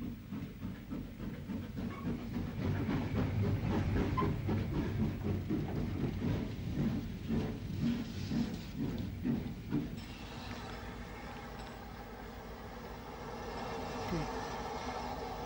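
Patricia, a Peckett steam saddle tank locomotive on 5 ft 3 in gauge track, romps along the Larne line, chuffing in a steady rhythmic beat with hiss and rail clatter, then easing into a quieter rumbling roll.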